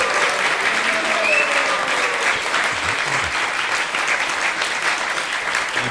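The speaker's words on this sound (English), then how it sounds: "We just want to give one more big round of applause for His Holiness Vidananda Maharaj." Audience applause fills a Hare Krishna temple hall, a dense, steady wash of many hands clapping at full volume for the whole stretch, with no break or fade.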